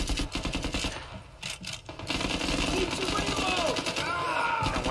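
Rapid automatic gunfire from the Zero Caliber VR shooter game, dense, loud bursts that run nearly the whole time with a short lull midway, while someone talks over it.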